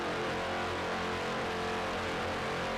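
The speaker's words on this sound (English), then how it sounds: "you can hear those Mercury power plants revving up as Gifford Racing gets on plane" Offshore racing boat with Mercury engines getting up on plane during an open start, a loud continuous engine roar heard from on board, steady and droning with no talk.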